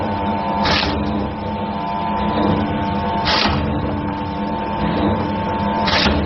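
A sugarcane bud chipper machine runs with a steady mechanical hum and tonal whine, broken by a sharp chopping burst roughly every few seconds in a regular rhythm.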